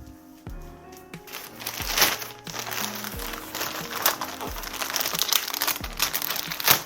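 A plastic packaging bag crinkles and rustles close up while a Roborock S8 Pro Ultra robot vacuum with mop is unboxed, the crumpling steady and fairly loud, with occasional sharper crunches.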